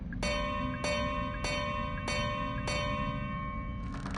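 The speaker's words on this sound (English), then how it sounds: "now hit the bell 8 more times" A bell struck over and over in the horror video game Crow Country rings out in five clear, evenly spaced metallic strikes, each tone ringing on into the next over a low, steady rumble.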